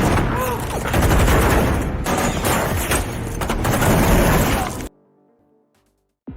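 A dense, loud shootout from an action film, with overlapping gunshots and bursts of automatic fire continuing for several seconds before cutting abruptly to near silence.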